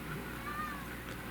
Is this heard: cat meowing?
yes